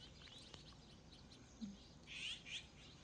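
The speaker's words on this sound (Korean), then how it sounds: "산까치라 그러죠 산까치 많아요 여기 왜 이렇게 많아졌는지 몰라" Eurasian jay calling outdoors by a misty river in Pyeongchang: a few short, faint chirping calls in quick succession, distant, over a soft steady ambient hush.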